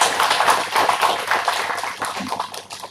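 A round of applause from the audience at an engineering conference inauguration on a college campus; brisk, crackling clapping that starts strong and slowly thins out toward the end.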